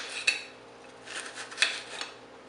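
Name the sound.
knife slicing food on a cutting board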